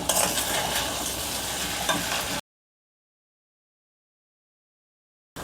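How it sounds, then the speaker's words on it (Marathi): Coconut rice being stirred in a pot after saffron milk is added, a steady scraping and faint sizzle that runs for about two seconds, then cuts to silence before briefly returning. "केशरचं दूध होतं की नाही ते घालून घेऊया."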